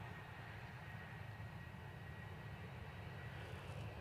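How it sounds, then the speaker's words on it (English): A Ryanair Boeing 737-800 bound for Malaga spools up its jet engines for departure at Manchester Airport, a steady, continuous low roar with a faint high whine, heard from a distance and unchanging throughout. "It is a Ryanair 737-800 going off to Malaga, and it's already spooling up"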